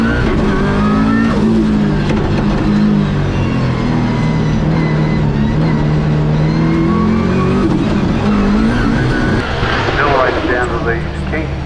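A race car at Ringwood during the Australian Championship accelerating down the track, engine noise rising and falling continuously and loudly while a commentator talks over it.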